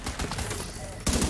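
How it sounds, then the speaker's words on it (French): Big pistol gunshots ring out in a video game, a cluster of sharp cracks followed by a louder burst near the end over busy background game noise. "Gros pistolet."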